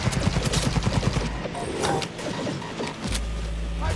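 Rapid bursts of gunfire in the video game Cyberpunk 2077, a fast rattling volley at first, then a pause with scattered shots before firing resumes, loud and fairly close.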